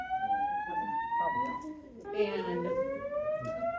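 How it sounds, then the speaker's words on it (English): A building fire alarm sounds at a legislative coffee meeting, a loud steady tone with rising pitch and harmonics, while people talk over it nearby. "That is the fire alarm."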